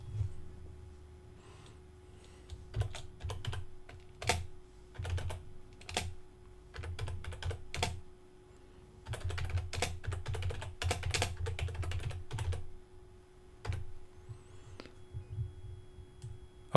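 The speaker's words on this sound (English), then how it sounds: "Type in my text." Typing text on a computer keyboard while building a section in the Divi WordPress theme, with close, bursty clusters of key clicks separated by brief pauses, steady and alone.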